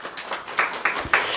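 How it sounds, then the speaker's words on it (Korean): A church congregation on Christmas Eve gives a short burst of applause to glorify God, with several distinct hand claps landing in a loose rhythm. "하나님께 영광의 박수 올려드립니다."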